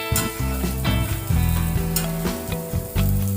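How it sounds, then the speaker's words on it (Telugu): Bitter gourd pieces frying in oil in a pan after cooking under a closed lid, a loud continuous sizzle with crackling and scraping stirs, no talk. "లిడ్ క్లోజ్ చేసుకోవడం వల్ల త్వరగా ఫ్రై అయిపోయింది"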